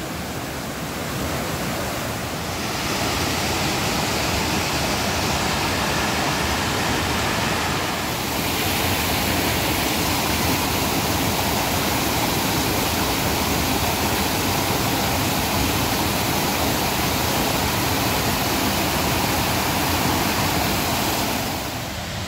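A stream flows beside a forest trail near the Thanale Buddhist Caves, a steady, loud broadband rush of water that carries on unbroken with slight shifts in level.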